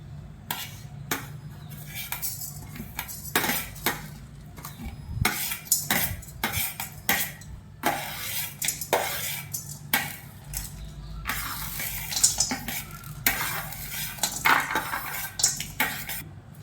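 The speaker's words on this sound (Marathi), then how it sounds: "आता ही कढई गरम झालेली आहे त्यामध्ये आपण सर्व खडे मसाले हलकेसे भाजून घेणार आहोत" Whole spices roasting in a hot kadai for spicy chicken angara, heard as repeated sharp metallic scrapes and clinks of a spoon against the pan, with light crackle, close and steady with no talking.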